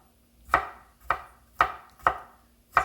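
Ten garlic cloves are roughly chopped with a knife on a board, giving five sharp, evenly spaced chops close by, with quiet pauses between them and no voices.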